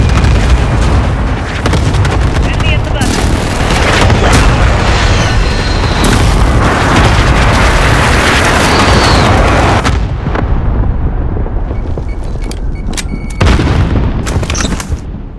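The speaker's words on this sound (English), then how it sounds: "Friendly precision airstrike inbound." Repeated heavy airstrike explosions in Call of Duty: Modern Warfare team deathmatch, loud booming blasts rolling one into another with sharp bursts and crackling debris, dense and continuous throughout.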